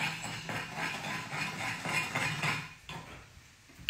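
Red cabbage salad with honey being stirred in a pan, a utensil scraping and clinking against the pan in steady strokes, close and fairly quiet, without any talking.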